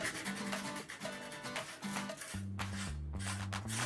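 Sandpaper rubs back and forth in quick rhythmic strokes over a painted wooden chair, distressing the Valspar paint finish; close and alone, with a faint background hum.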